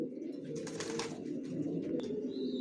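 Pigeons, an adult pair of racing birds, cooing in a low continuous rumble close by, with a brief brighter chirp near the end and no talking.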